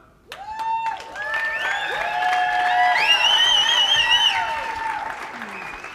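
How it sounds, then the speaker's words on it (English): An audience applauds and cheers as a company's top distributor is called onstage, whoops and claps rising from a sudden start into a sustained, loud swell before easing slightly toward the end. "Or you can cheer every single time"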